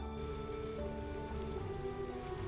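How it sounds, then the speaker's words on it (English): Video game rain patters steadily with a soft, continuous hiss, heard alone without voices, accompanied by faint sustained tones in the background. "since this is a video about rain, let's actually see the rain, shall we?"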